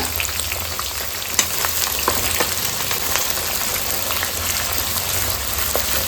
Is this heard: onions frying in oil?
yes